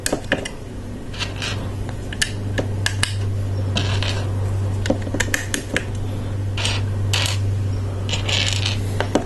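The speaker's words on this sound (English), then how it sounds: "now we're going to fill all of these pinholes with some friction pins" Small plastic Lego Technic friction pins pressed one after another into pinholes while building a Star Wars Imperial Shuttle Tydirium set: scattered close clicks and light plastic taps at an irregular pace over a steady low hum.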